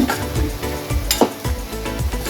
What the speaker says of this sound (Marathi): कांदा आपला छानपैकी असा फ्राय झालेला आहे